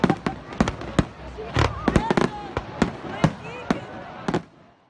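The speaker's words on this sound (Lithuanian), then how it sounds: "Vidurnaktį Alytaus padangė nutvieskė įspūdingi fejerverkai" Fireworks explode at midnight over the city of Alytus during its birthday celebration, a rapid series of sharp, loud bangs and crackles that fade at the end.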